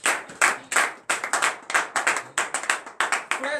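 A church congregation at a morning prayer service in Benin claps in acclamation. The loud, close claps fall in quick rhythmic bursts, in short clusters with brief gaps between them, and no voices are heard.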